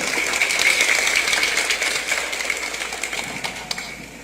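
Crowd applause at an airport inauguration ceremony in Jérémie, a steady wash of clapping from a large audience that slowly thins out, with a faint hum underneath.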